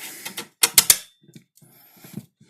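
Screws being driven while skateboard trucks are swapped: a few sharp, close mechanical clicks and ratcheting ticks in quick bursts, then quieter scattered clicks, with no talking.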